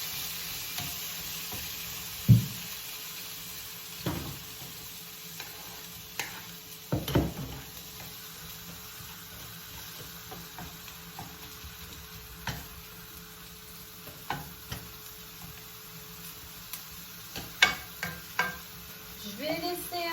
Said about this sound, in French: Je vais y ajouter mes tomates et oignons que j'ai